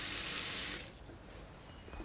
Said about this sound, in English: We're going to put some water in there.